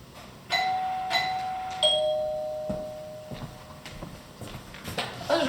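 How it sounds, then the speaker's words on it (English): A doorbell chimes a few bright ding tones in quick succession, followed by quieter shuffling noises in a room. "The doorbell sounded weird."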